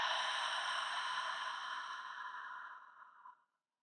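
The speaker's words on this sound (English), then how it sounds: "Take another cleansing breath with me, inhaling deeply and exhaling fully." A deep, slow cleansing exhale during a yin yoga class, one long breathy sigh close to the microphone that gradually fades and ends abruptly.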